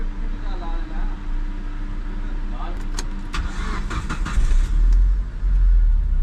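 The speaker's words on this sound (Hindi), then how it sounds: "हो गई जी हमारी गाड़ी स्टार्ट" A car engine cranks and catches, its low rumble swelling into a loud, close idle toward the end, with people talking over it.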